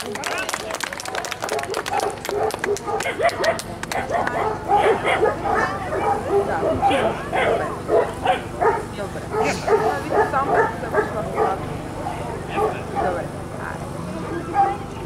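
Several dogs bark and yip in quick, uneven bursts during a dog demonstration show in Bulgaria, under steady crowd chatter and scattered clapping, fairly close and loud throughout.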